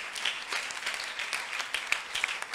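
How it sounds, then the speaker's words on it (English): Applause from an audience at a high school debate contest in Kumasi, a dense steady patter of many hands clapping at moderate level throughout, with no voices over it. "Clap for us."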